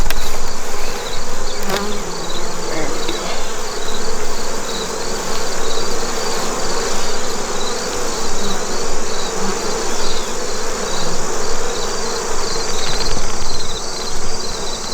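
A dense, continuous drone of many honey bees buzzing close by in a nucleus hive with brood, steady and loud with no talking.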